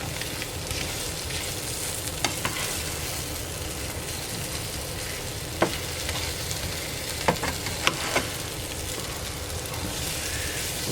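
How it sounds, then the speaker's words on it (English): Seasoned mushrooms sauté in a pan with a steady, close sizzle, and a few light utensil clicks and stirs break through the continuous frying hiss. "I just need to get it a little more sauteed here."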